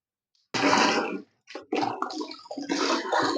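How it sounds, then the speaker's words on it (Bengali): Water gushes and splashes onto clothes set to soak, loud and close, in two bursts separated by a brief pause. "প্রথমে জামাগুলো ভিজিয়ে দেবো।"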